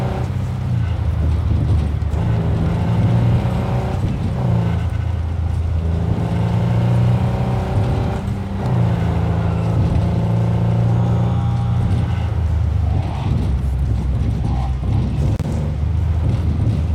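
A car engine idles and hums steadily in the video game Cyberpunk 2077, a loud, continuous low drone with slight swells, while people talk over it.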